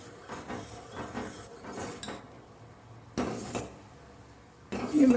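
Spoon stirring frothing, boiling gooseberry juice in a metal pot: soft scraping swirls with occasional clinks against the pot, close by, then a louder clatter near the end.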